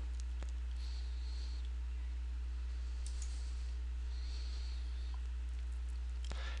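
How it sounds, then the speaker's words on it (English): Two isolated, faint computer mouse clicks, several seconds apart, sit over a constant low electrical hum with no other activity. "click on the profile link on the left-hand side"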